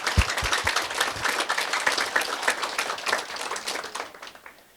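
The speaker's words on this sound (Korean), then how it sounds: "여러분 큰 박수를 부탁드립니다" An audience at a Buddhist temple opening ceremony gives a round of applause, starting with a few distinct near claps and swelling into uneven crowd clapping that gradually fades out.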